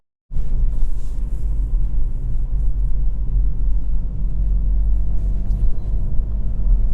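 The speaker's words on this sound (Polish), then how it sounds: "Myślę, że wydech słychać." A deep, steady exhaust rumble from a 2022 Kia Proceed GT (1.6 turbo petrol, 204 hp, 7-speed dual-clutch) driving in town, loud and continuous with a strong low growl that holds for several seconds.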